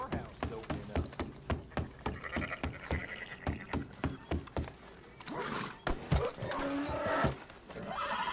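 Horses in the Red Dead Redemption 2 video game, with a steady run of hoof clip-clops followed by loud neighs and whinnies near the end, heard alone without talk.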